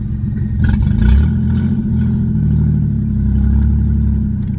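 A Ford Mustang SN95 drives slowly with its engine running, a deep, steady low rumble that rises and falls slightly as it goes, loud and close, with some light rattling from the cabin.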